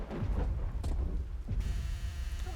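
In Roblox Rainbow Friends, heavy deep rumbling of thunder rolls loudly with a sharp crack partway through, over a steady hiss of rain.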